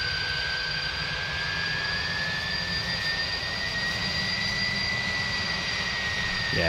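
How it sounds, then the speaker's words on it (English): Airbus Beluga jet engines at high power during an engine run at the holding point: a steady, loud roar with a sustained high whine that holds throughout, with no voices. "With the high power engine run."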